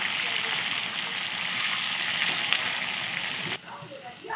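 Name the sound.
broiler chicken meat being stirred while frying in pan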